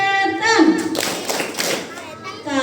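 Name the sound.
children doing the rhythmic 'anti-devil' clap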